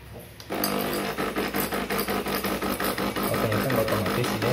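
A DeLonghi Dedica EC685 espresso machine runs its descaling cycle. After a brief quiet start its pump hums steadily and loudly, with a fast pulsing throb for about four seconds and no talk.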